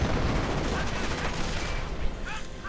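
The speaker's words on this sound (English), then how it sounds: "Rangers moving in with the Thompson submachine guns," Rapid bursts of Thompson submachine gun fire in a World War II strategy video game, dense overlapping shots forming a continuous loud clatter with no pauses.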